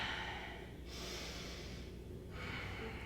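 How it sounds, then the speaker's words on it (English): Slow, deep breaths during a yoga flow class, a soft exhale followed by a hushed inhale and another breath, close and quiet against low background noise. "Breathing nice and deep."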